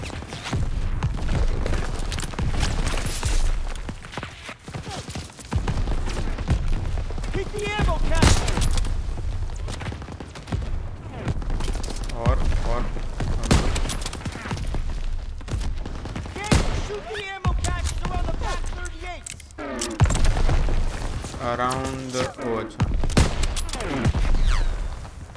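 Rapid gunfire and explosions from ammo caches being shot in Call of Duty WW2 on PS4, dense and loud throughout, with voices talking over the battle.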